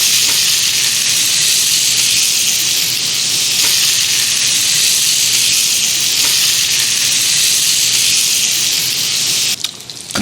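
Cumin-seasoned pork bites frying in a pan, a steady, loud, crackling sizzle that holds evenly throughout with no talking over it.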